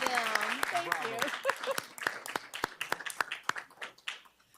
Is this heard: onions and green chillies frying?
no